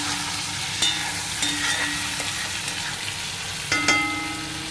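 Sliced potatoes and pointed gourd fry together in a pan, a constant low sizzle with a few occasional spatula scrapes and clicks, close and quiet, with no speech.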